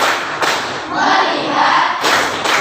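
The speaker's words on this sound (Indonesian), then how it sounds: "dengan melakukan tepuk fokus" A classroom of students performs a rhythmic focus clap, quick bursts of hand claps and thumps in a patterned sequence, fairly loud and close, with young voices mixed in.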